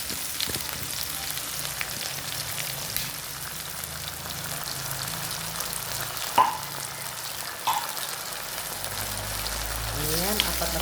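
Four sardines frying in a pan for ginisang sardinas, a steady soft sizzle throughout with a few clinks, while someone talks over it.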